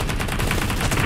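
Gunfire in the video game PUBG, a rapid loud burst of shots rattling in quick succession with no pause, close and alone.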